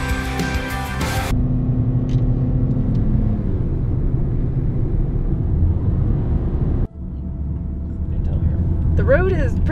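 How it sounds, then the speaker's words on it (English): A small car's engine chugs up a steep mountain road to a summit in Doi Inthanon National Park, a steady low rumble with a brief dropout near the end, heard beneath someone talking. "The road is pretty steep to get to the summit, so my little car is just chugging along."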